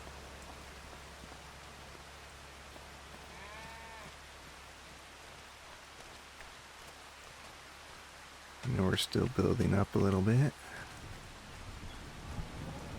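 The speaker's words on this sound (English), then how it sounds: "And it's raining already" Soft, continuous rain from the Farming Simulator game patters in the background while someone speaks briefly over it.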